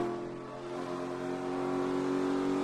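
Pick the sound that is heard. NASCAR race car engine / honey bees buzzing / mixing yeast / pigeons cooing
NASCAR race car engine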